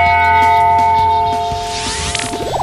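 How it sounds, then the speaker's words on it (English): A historic bell on the Mitchell College campus in New London, Connecticut, rings with sustained tonal partials, close and steady across the short span, its ring fading slightly under a faint brushing rustle near the end. "This is the historic bell, and they ring it at convocation, graduation, and alumni events."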